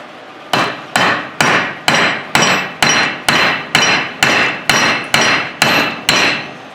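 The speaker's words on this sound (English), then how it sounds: "Now I'll go ahead and hammer that one the rest of the way down." About a dozen sharp hammer blows at an even, steady pace, each ringing briefly, close by and loud, driving a part into place while reassembling a Dodge Ram Cummins front driveshaft.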